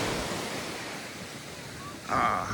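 Ocean surf on a beach on a nice day, a steady broadband wash of waves with some wind on the microphone and a louder surge near the end, no talking.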